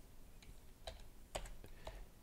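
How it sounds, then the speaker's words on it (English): Typing on a computer keyboard: a few sparse, quiet key clicks at an uneven pace, with no talk over them. "You have to start typing and then press enter to see it accepted."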